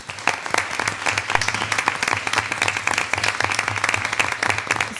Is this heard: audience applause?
yes